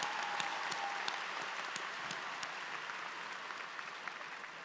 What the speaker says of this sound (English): Let's actually give everybody a round of applause for all of our faculty awards.